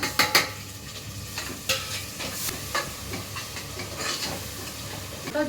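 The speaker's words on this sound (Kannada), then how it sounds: "ಸೊ ಇವಾಗ ನಾವು ಟೊಮೊಟೊ ಮತ್ತು ತರಕಾರಿಗಳನ್ನ ಹಾಕ್ಕೊಂಡ್ಬಿಡೋಣ" Tomatoes and vegetables go into a hot pan of onions and masala for vegetable khichdi, giving a steady sizzle with scraping stirs and a few clinks of the spoon, close up with no talking.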